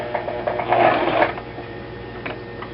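A home sewing machine runs briefly through one stitch rotation, a soft whirring mechanical burst near the mic that swells and fades over about a second, with faint ticks of the mechanism after.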